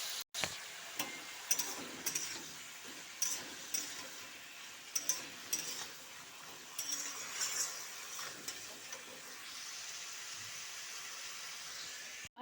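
Teasel gourd and potato frying in a pan with turmeric, cumin and chilli, giving a soft, steady sizzle broken by repeated scraping and clinking stirs from a utensil against the pan, quiet and close with no talk.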